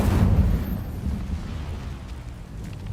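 A Hogwarts Legacy Incendio fire spell goes off with a heavy, rumbling whoosh-burst that starts loud and thick with low roar, then settles into a sustained crackling flame rumble, no voices.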